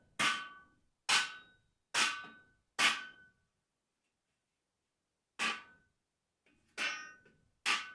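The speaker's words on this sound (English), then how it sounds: "Grab the hammer." A hammer strikes shelf legs as they are secured together, four sharp ringing blows at an even pace, a pause, then three more, each close and loud with a short metallic decay into silence.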